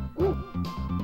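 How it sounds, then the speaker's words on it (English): Dogs barking in the SNES golf game Golf Daisuki! O.B. Club, two or three short electronic bark-like yaps in quick succession with a tonal, synthesized quality, moderately loud and close. "These dogs are barking."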